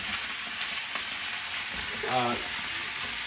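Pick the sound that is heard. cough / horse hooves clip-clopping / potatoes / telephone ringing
potatoes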